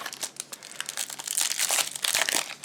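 Crinkly foil wrapper of a Lightseeker trading card booster pack being torn and peeled open, close and crisp, with continuous rustling and crackling building over a few seconds.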